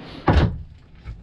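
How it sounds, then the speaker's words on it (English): A storage drawer in the slide-out closet of a Grand Design Momentum 351M toy hauler RV pulls out with one brief, close sliding thump, followed by quiet. "Each drawer pulls out."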